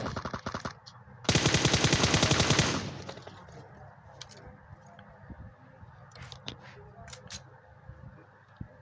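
An AKM assault rifle fires in the video game PUBG, a short burst and then a rapid sustained volley of loud close shots, with faint clicks and scattered distant sounds afterward.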